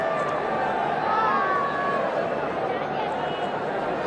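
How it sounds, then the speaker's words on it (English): A large cricket crowd at Eden Gardens during an India versus Sri Lanka one-day match makes a loud, steady roar of chatter and hubbub, with a commentator's voice over it. "Very good crowd here."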